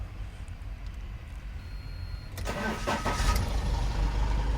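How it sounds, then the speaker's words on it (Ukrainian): A 3.0 diesel Iveco Daily flatbed van engine is quiet at first, then cranks and fires about halfway through, settling into a loud, steady running rumble close by. "Слухайте, як заводиться наш автомобіль."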